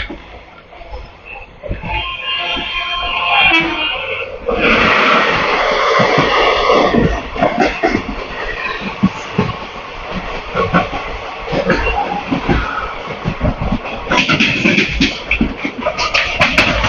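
An Indian deluxe tourist train arrives at Tambaram station in Chennai, a loud, continuous rumble of rolling cars with hissing, clattering wheel beats and bursts of rail noise, heard close from the platform.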